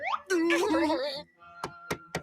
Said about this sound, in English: He's knocking on the door.